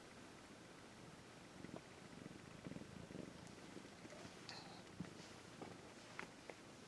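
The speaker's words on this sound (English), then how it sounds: "She's purring. I don't know if you can hear her." A cat purring close to the microphone, a soft continuous rumbling with faint rustles and small clicks over it.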